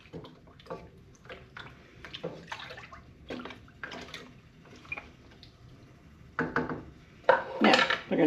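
A spoon stirs ground cardamom into apple cider in a pot, giving irregular clinks and liquid swishes against the metal, which grow louder and busier toward the end; nobody speaks.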